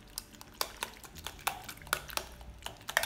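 Quiet, irregular clinks and scrapes of a utensil against a bowl, with soft swishing as thick martabak batter is stirred, close by.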